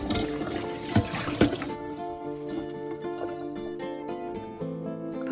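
Warm water runs and splashes briefly at the start, rinsing foam off soup ingredients under a tap, then stops, leaving a background of steady tones.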